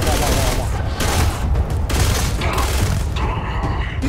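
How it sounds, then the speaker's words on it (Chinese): Explosions and heavy gunfire burst in a Starfield combat scene, a dense rolling barrage of booms and shots that stays loud and continuous throughout. "邊度爆炸啊啱啱？"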